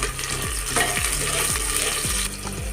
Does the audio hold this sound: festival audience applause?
no